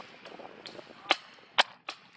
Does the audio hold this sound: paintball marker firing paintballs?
yes